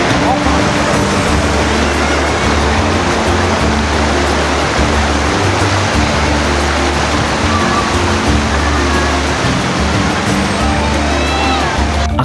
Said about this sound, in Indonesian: Curug ini berupa air terjun alami setinggi sekitar 30 meter dengan aliran dari mata air Gunung Sawal